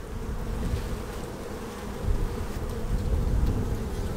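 Honey bees swarm around an opened hive during frame inspection, producing a dense, continuous close-up buzz of many insects that swells slightly in the second half, with no talking.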